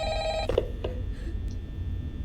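Phone ringing inside a FNAF fan game set in a restaurant security office: a faint, brief electronic ring with a couple of quick pulses over a low background hum, no talking.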